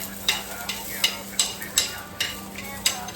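Onion and four green chilies roasting on a griddle with a steady sizzle, punctuated by about eight regular scraping stir strokes, close and fairly loud.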